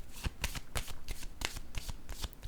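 Playing cards from a board-game deck are handled and drawn, giving a quick run of soft, crisp card flicks and riffles in a steady rhythm, close and fairly quiet, with no talking.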